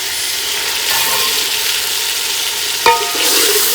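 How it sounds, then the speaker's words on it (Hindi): Chopped tomatoes and chicken fry together in a pan with a loud, continuous sizzle close by, and one sharp clank of a spoon against the pan near the end; no one speaks. "हमारा जो चिकन है ना वो भी साथ साथ इसमें वो फ्राई होता रहेगा"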